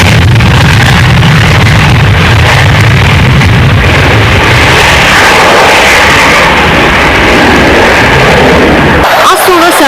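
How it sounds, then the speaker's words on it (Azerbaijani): An F-16 fighter jet roars during takeoff and flight at a joint Turkish-Azerbaijani air force exercise, a very loud, dense, broadband blast that holds for nine seconds and then cuts off abruptly. "Türklərin müşayiəti ilə pilotlarımız F-16 təyyarəsini səmaya qaldırdı."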